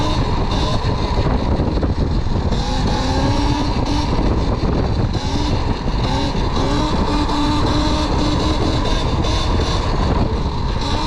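An electric dirt bike in sport mode accelerates hard into a wheelie, its motor whining and rising under steady wind and road noise, loud and continuous throughout.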